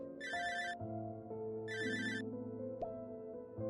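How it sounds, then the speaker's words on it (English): An electronic phone ringtone chimes in two short bursts over a soft synthesized music backdrop. "your phone rang"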